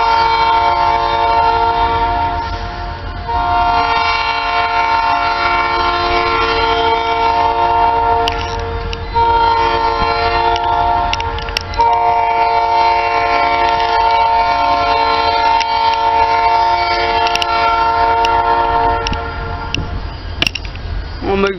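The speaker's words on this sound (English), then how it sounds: "Looks like we got a string of engines coming our way." A string of Bay Line Railroad locomotives rumbles past loudly and continuously while a deep multi-tone horn blares through most of the passage, with wheel clatter underneath.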